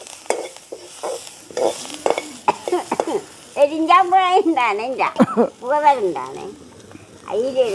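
Oil crackles and sizzles as spices hit the pan, while people talk over the cooking throughout.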